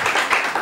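Brief burst of clapping from an audience at a Carpmania 1999 prize-giving, a dense smattering of hands that stays steady and fairly loud for under a second.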